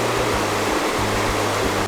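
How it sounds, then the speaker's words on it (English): A mountain creek in Cataloochee Valley rushes beneath a bridge near a historic schoolhouse after Hurricane Helene, making a steady, broad, close hiss of flowing water that runs unbroken through the whole moment. "here's the creek under the bridge"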